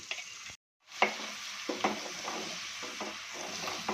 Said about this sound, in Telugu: రెండు టేబుల్ స్పూన్ల అల్లం వేసుకొని ఆయిల్లో పచ్చివాసన పోయేంత వరకు బాగా వేయించుకోవాలి